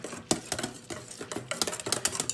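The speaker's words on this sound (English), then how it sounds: "We're just gonna stir that up, make sure it's fully incorporated" Spoon stirring a sweetened condensed milk ice cream mixture in a bowl, a series of soft irregular scrapes and light clinks against the container, close and quiet.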